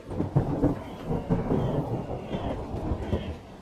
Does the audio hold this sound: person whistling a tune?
no